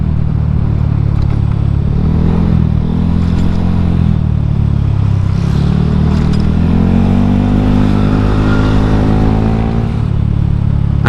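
Honda Scoopy scooter being ridden on a road, its engine note droning steadily throughout with rising and falling revs and wind rush, close and loud, no talking.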